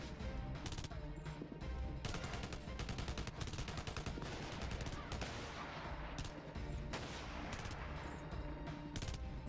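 Rapid gunfire, including sniper rifle shots, from the video game Blackwater rattles loudly and steadily in dense bursts throughout, with no pauses.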